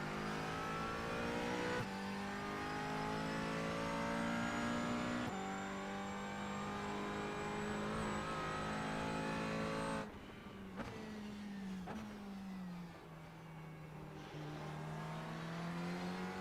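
McLaren race car engine in the iRacing video game at Hockenheim, a steady loud high-revving drone that climbs through the gears, then drops and wavers as the car brakes and rotates before the throttle comes back on.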